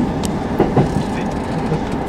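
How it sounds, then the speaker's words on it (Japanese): Inside a Kintetsu Nagoya Line train creeping slowly into Kuwana Station, a steady low rumble of wheels and carriage with a few soft clicks and creaks over two seconds. "間もなく桑名駅に到着ですが、この直前やけに列車がノロノロになっていました。"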